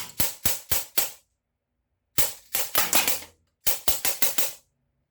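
A Sig Sauer MCX gen 2 airgun fires in three bursts of sharp, snappy cracks, four to five shots each, with short silent gaps between bursts, close and loud.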